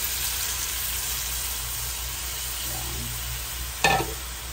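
Steady frying sizzle of snails and vegetables with taro in a pan, loud and continuous, broken near the end by a brief splash-like burst as coconut milk is poured in.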